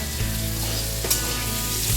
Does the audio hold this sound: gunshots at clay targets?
no